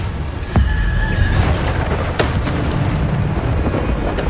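Bombarda blasting spells in Hogwarts Legacy go off as heavy booming explosions in the middle of a loud fight, with several sharp hits over a constant rumbling din.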